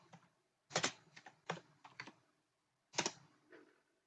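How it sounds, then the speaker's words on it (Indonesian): Keystrokes on a computer keyboard typing a git pull command, in short irregular bursts of sharp clicks with pauses between, close and fairly quiet, no voices. "Baru kita ketik git pull."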